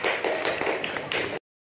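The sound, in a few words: group of schoolchildren clapping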